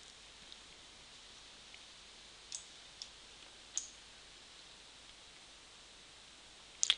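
Scattered sharp mouse clicks, faint and irregular over quiet background hiss, with a quick double click at the end.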